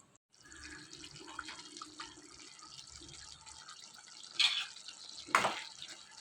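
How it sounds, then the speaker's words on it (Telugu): Tamarind paste for pulihora boils in a pan, giving a steady low bubbling with soft popping, then two brief louder splutters near the end. "చూసారు కదా ఎలా కొట్టుకొట్టులాడుతూ ఉడుకుతుందో"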